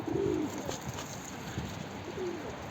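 Soft, low cooing calls from pigeons, two brief coos heard quietly over faint background hiss.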